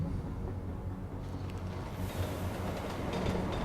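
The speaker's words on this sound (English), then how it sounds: "We're going to stand on the tram and push a button." A tram rolling along its rails in the Deus Ex Mankind Divided video game, a steady low rumble with faint rail clatter that brightens slightly as it moves, heard alone without speech.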